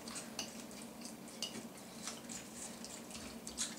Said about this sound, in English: I just mix this up with the fork.